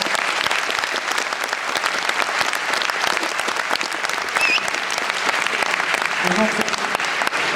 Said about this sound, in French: Je vous invite à les applaudir bien fort